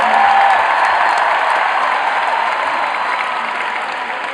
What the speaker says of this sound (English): Come on, give honor applause to Kenneth James Wong.